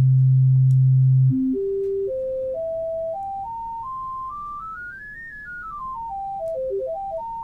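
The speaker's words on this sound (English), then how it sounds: "Let's listen to those harmonics." Pure synthesized sine tones step upward one after another through a harmonic series, climbing steadily then briefly descending and rising again, each tone clean and sustained, heard alone with no talking.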